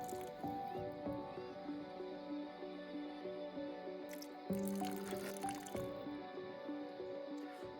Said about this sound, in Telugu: కొండలో నుంచి నీరు ఇలా వస్తున్నాయి